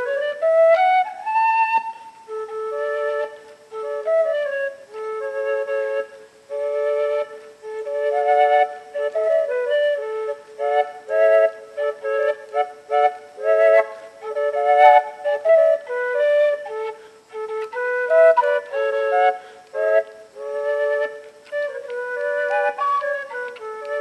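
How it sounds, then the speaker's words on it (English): A 3D-printed polyflute, a polyphonic Native American style pan flute, plays a breathy melodic tune with two or more tones at once, phrases of short and held notes with brief breaths between, close and clear with nothing else. "I call a polyflute, a polyphonic pan flute."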